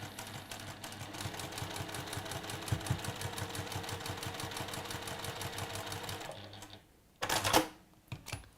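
A sewing machine runs steadily, stitching fabric pieces for a log cabin quilt block with a fast, even mechanical rattle for about six seconds, then stops; a few louder clicks and handling sounds follow.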